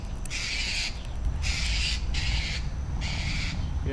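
A bird gives four loud, harsh, crow-like squawks in a broken series, each about half a second long, over steady outdoor background noise.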